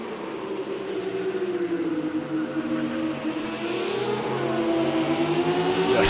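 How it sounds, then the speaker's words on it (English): A GT3 race car engine at Imola howls steadily under load, its pitch rising and dipping through gear changes and building louder toward the end, close and continuous with no voices. "Dirkie is pushing this car as hard as he can."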